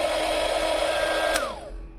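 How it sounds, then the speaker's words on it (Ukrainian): An EcoFlow RIVER 2 portable power station under a load of about 265 W, its cooling fan giving a steady, close whir that then spins down and fades. "Запустилися вентилятори, запустився кулер охолодження."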